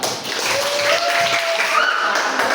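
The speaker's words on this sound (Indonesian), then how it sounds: "Tepuk tangan dulu" Classroom applause from students clapping together for a person speaking at the front of the class: a steady burst of clapping lasting a couple of seconds, with a faint tone running through it.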